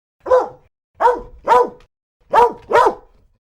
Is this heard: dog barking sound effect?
yes